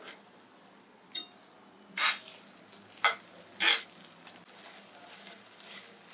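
An omelette with black pepper being stirred in a pan, heard as a few sharp scraping and clinking strokes of a utensil over a soft background sizzle, with a quiet gap between strokes.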